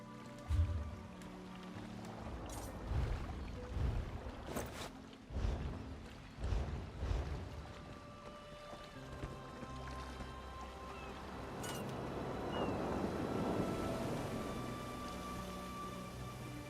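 Ship setting sail in The Elder Scrolls Online, with creaking timber knocks and thuds, then a swelling wash of water against the hull, moderately faint with no talk.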